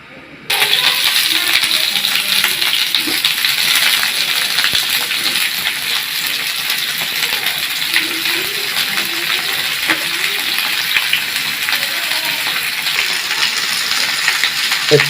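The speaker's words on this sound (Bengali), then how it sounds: "এখন আমরা ভাজি করার জন্য রেডি হব।" Spinach and coriander leaves frying in hot oil in a pan for a Bengali spinach dish, a loud continuous sizzle that starts abruptly and hisses steadily with faint stirring clicks underneath.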